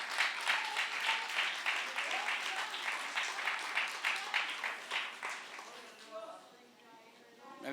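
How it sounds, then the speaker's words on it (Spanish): A church congregation claps in a quick, rhythmic unison beat during a Spanish-language discipleship class, loud and close, then fading away after about six seconds. "un aplauso al Señor"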